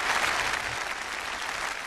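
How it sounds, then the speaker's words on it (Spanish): Theatre audience at the Old Vic applauding, a dense, steady wash of clapping from many hands heard at moderate distance, continuous for a couple of seconds with no voices. "Estos aplausos podrían dejar de sonar en el viejo Vic"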